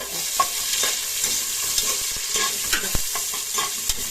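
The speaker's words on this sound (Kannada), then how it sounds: "ಇವಾಗ ಇದು ಚೆನ್ನಾಗಿ ಫ್ರೈ ಆಗ್ಬೇಕು" Ginger and garlic sizzle steadily in a hot pan while a utensil scrapes and taps against it in irregular strokes, close and clear with no talking.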